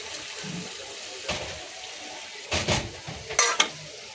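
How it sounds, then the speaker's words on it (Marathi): Water is poured into a simmering prawn curry in a pan, with a few splashy pours and pot and utensil clatter close up over a steady low cooking hiss. "त्याच्यात मी थोडंसं पाणी घालते."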